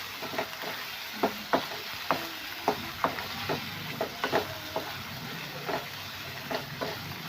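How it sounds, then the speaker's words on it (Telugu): Jackfruit seeds and masala frying in oil in a pan, a low continuous sizzle broken by scattered sharp clicks and taps of a spoon stirring, moderately close, with no speech. "ఈ పనస గింజలు కూడా బాగా ఆయిల్లో ఫ్రై అవ్వాలి."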